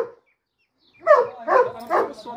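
A German shepherd dog barks in a quick series of three or four loud, close barks after a brief silence.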